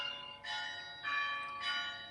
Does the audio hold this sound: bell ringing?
yes